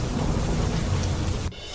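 Heavy rain pours down amid a deep, rumbling roll of thunder in one brief, dense burst that cuts off abruptly near the end.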